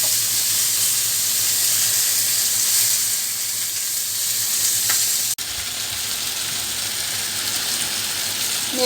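Shredded mushroom sautés in a hot pan, a loud, steady sizzling hiss that runs throughout, with one sharp click midway and no talking.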